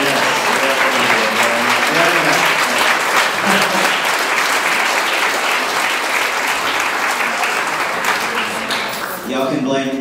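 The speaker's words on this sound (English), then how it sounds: "Can we have a round of applause for my parents?" Sustained applause from a large audience, loud and steady throughout, with cheering voices mixed in, fading slightly near the end.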